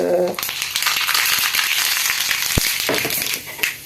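Dried red chillies and mustard seeds frying in hot oil, a dense, close crackling sizzle with sharp pops and spatters throughout, briefly easing near the end; a voice is heard at the start.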